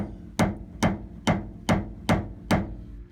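Six evenly spaced sharp taps of a tool on the steel body panel of a 2016 Chevy Silverado during paintless dent repair, close and crisp with short pauses between strikes.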